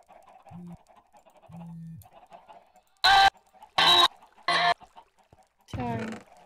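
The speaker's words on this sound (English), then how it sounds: "we have so many chickens" Minecraft chickens cluck in a few loud, sharp bursts over quiet background chatter and low hums, close and intermittent.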